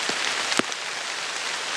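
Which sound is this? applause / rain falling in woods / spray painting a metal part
rain falling in woods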